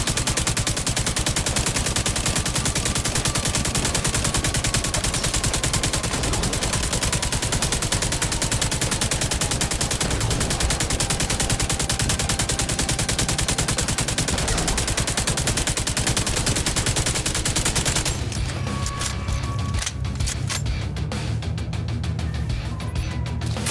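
Continuous automatic gunfire from The Division 2, dense rapid shots sustained for most of the stretch, loud and close, before cutting to a sparser, quieter burst near the end.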